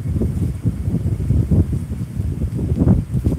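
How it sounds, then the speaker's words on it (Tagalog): Strong gusting wind ahead of Hurricane Milton near a boat ramp, loud buffeting roar hitting the microphone in continuous waves with no break. "mahangin na po dito sa amin."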